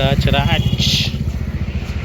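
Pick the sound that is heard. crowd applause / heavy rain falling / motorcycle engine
motorcycle engine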